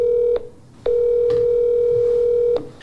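Steady telephone dial tone on a phone line during a call attempt to an apartment complex in Chattanooga, cut by two short breaks, then holding clear and loud before dropping away at the end.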